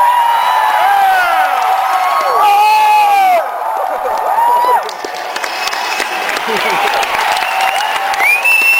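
An enthusiastic political rally crowd in Minnesota applauds and cheers loudly and continuously, with whoops and shouts rising over the sustained clapping throughout.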